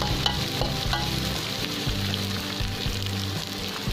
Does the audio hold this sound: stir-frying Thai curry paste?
yes